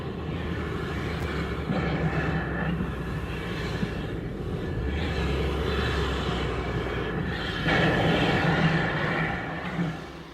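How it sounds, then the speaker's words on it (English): A French narrow-gauge passenger steam train rumbles steadily at a distance, with low mechanical droning and a faint whistle-like tone near the start. "a genuine French narrow-gauge passenger train"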